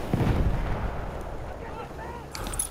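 Battlefield 1 combat with a grenade going off, a sharp burst at the start that fades into a rumbling tail under a voice, with other battlefield noise behind.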